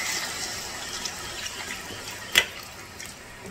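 Water poured into a pan of marinated soybean gravy makes a continuous soft splashing rush, close and moderate in level, with one brief sharper splash partway through.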